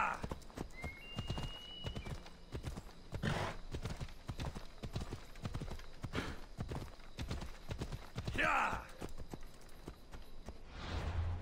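A horse in the video game Assassin's Creed Odyssey gallops with steady, rhythmic clip-clopping hoofbeats. A whinny rises partway through over the running hooves.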